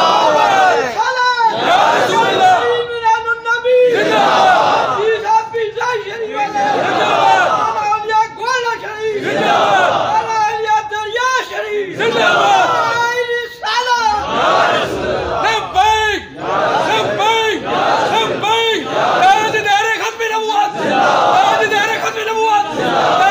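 A crowd at a religious gathering chants slogans in loud rhythmic bursts, a lead voice and a massed answering roar repeating about a dozen times, close and forceful.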